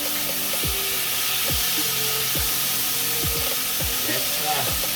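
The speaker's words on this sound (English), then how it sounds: "Fry up this for a while." Spicy Jamaican-style mackerel fries in a very hot pot, making a constant loud sizzling hiss with steam, and occasional low thumps and knocks run underneath.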